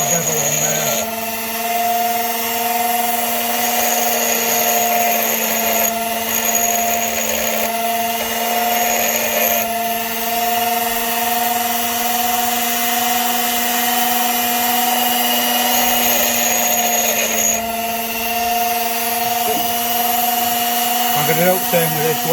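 A small grinding wheel bevels a seized hitch bolt on a Peugeot Partner Mk1 spare wheel carrier, giving a steady high whine with gritty rasping throughout, while a person talks over it.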